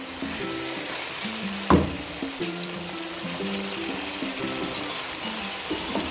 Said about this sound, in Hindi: देखें ये मेरा बिरयानी का मसाला बिल्कुल भुनने पे आ गया है।